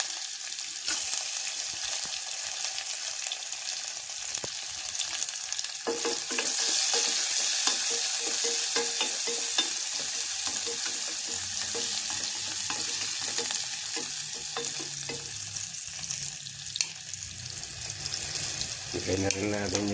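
Onions frying and being stirred in a pan for a sarsiado milkfish-tail dish, a steady close sizzle with scraping strokes, faint talk in the background.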